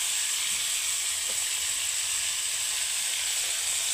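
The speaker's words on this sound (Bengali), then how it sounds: "সবগুলো মশলার সঙ্গে আমি ভালো করে নেড়ে চেড়ে নেব" Potatoes and tomatoes fry in a pan with ground cumin and coriander, a continuous close hiss and sizzle holding steady with faint stirring touches and no speech.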